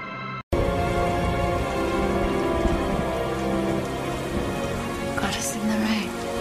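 Heavy rain comes in abruptly after a brief silence and then falls in a dense, steady patter that stays loud and continuous throughout.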